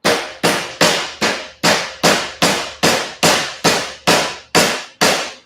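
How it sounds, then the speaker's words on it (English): Twelve sharp hammer blows ring out at an even, steady pace, each a bright metallic strike that quickly decays before the next. "So we just hammer that flat"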